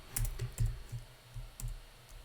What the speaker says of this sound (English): finally doing some typing rather than talking